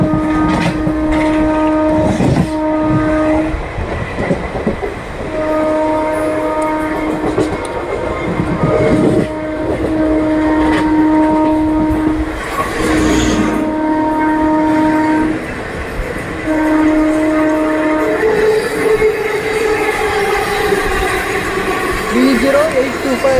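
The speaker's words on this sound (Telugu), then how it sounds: "మన ట్రైన్ వచ్చేసిన ప్రజెంట్ అయితే నెస్టల్ రైల్వే స్టేషన్ అయితే స్కిప్ చేస్తుందండి." Express train 17208 rolls through a station without stopping, heard from onboard as a loud, continuous rumble and rattle. A long horn sounds in repeated blasts over the running noise.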